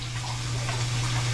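A running shower gives a steady, close hiss of falling water with a low constant hum underneath, no talking, the flow unbroken.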